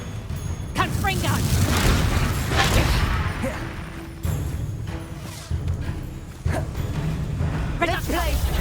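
A Confringo explosive spell bursting in Hogwarts Legacy, heavy booming blasts and crashing impacts recurring over several seconds amid continuous battle noise, with a voice shouting the spell over it.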